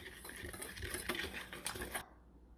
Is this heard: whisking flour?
yes